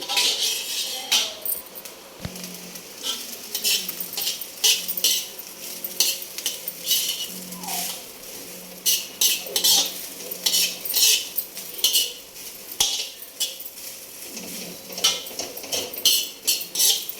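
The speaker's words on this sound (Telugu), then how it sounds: "వెజ్ ఫ్రైడ్ రైస్ అయితే వచ్చిందండి, చేస్తున్నానండి." Vegetable fried rice is stirred and tossed in a pan, with steady metallic scraping and clinking of a utensil over a light sizzle, close and continuous, with no talking.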